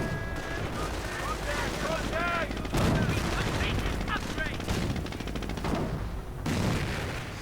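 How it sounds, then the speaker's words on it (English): Hummel self-propelled artillery fires in a World War II strategy game, with heavy booms and rattling gunfire layered in a dense, loud battle din and a voice faintly present. "And more Hummel fire."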